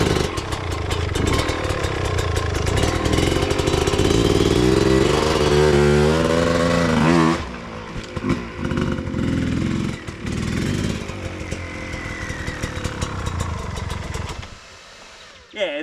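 A dirt bike engine revs up in a rising whine as the clutch is slipped and released, then drops to a rougher, uneven running note with short blips before fading near the end, heard up close.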